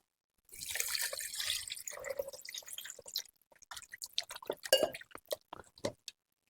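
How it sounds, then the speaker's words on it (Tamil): Water poured into a pot of pork curry, a trickling, splashing pour followed by scattered drips and small liquid sounds, fairly quiet and with no talking. "தண்ணி தேவையான அளவுக்கு ஊற்றிக்கலாம்."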